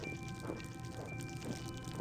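Creek water flows through a forest in the video game Year Walk, a steady, soft gurgling stream with gentle pouring swells, continuous and fairly quiet.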